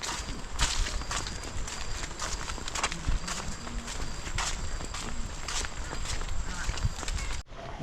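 Several water buffalo (carabao) walk on farm ground, their hooves landing in a loose, uneven clopping rhythm nearby while people talk over the steps.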